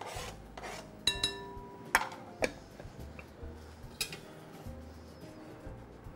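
Hands work ground almonds, dates and icing sugar together in a bowl, producing soft rubbing and scraping with a few sharp clinks against the dish, close and quiet with no speech.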